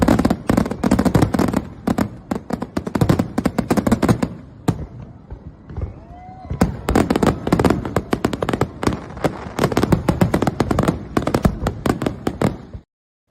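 Fireworks burst over a lake at Colchester, a rapid, loud barrage of sharp cracks and booms with a short lull midway, including a rising whistle, before the volley resumes and ends abruptly.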